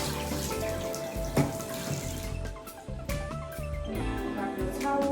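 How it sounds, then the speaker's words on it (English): Tap water runs and splashes over wavy weave hair bundles being rinsed in a sink, a steady faint gush with uneven sloshes and drips as the hair is moved under the stream. "Rinse it really well, because this texture is really quite silky."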